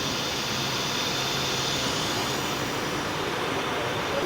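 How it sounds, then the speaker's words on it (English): Steady broadband rush of air blowing inside a medical hose extrusion line, a continuous close hiss with machinery hum underneath and no pauses. "You can hear the air blowing inside there."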